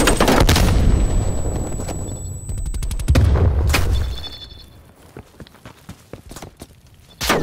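Enemy frag grenade blast in Black Ops Cold War: a heavy, loud close explosion at the start with a rumbling tail, surrounded by rapid bursts of gunfire and scattered footsteps, then quieter shuffling and another sharp burst at the end.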